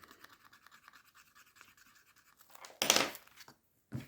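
A scraper rasps across a scratch card in quick, soft, close strokes, the scratching growing into a louder, harsher burst near the end.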